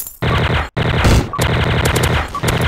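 TMP submachine gun fire in a video game, loud rapid bursts of automatic shots in quick succession, with brief gaps between volleys.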